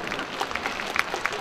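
Rhythmic clapping from a festival crowd at a Korean pumba folk performance, keeping time with scattered sharper claps, moderately loud with singing or a voice mixed in.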